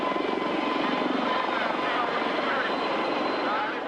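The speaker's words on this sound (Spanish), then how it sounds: "Ceausescu huyó en helicóptero." A helicopter lifts off in Romania during the fall of Ceausescu's regime, its rotor and engine roar a loud, steady wash that fills the entire stretch with a faint rhythmic beat.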